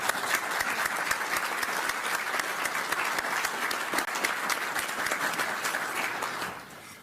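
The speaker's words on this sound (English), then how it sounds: "Let's give them all a round of applause" Audience applause for Ukrainian defense leaders at a defense contact group meeting at Ramstein, a dense, sustained wash of clapping from a large room that holds steady for about six seconds before tapering off at the end.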